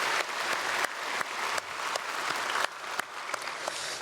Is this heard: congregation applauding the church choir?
yes